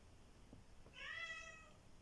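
A domestic cat gives a single clear meow, fairly close and moderately loud, rising out of quiet room tone for about a second.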